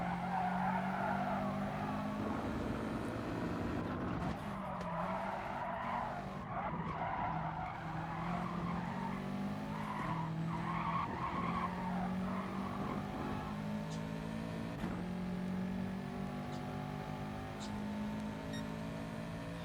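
A Subaru race car in Gran Turismo Sport racing close in a pack, steady engine drone with rising and falling gear pitch and drawn-out tire squeal through corners, moderately loud throughout.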